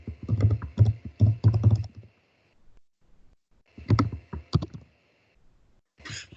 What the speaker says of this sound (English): I'll just type it in so you can get a sense.